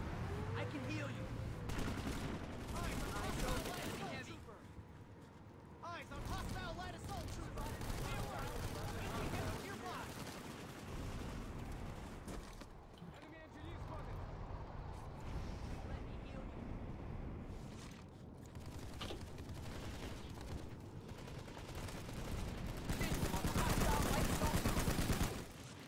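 SMG gunfire in Planetside 2, with frequent rapid bursts amid battle noise and explosions across the whole stretch, a player talking over the shooting.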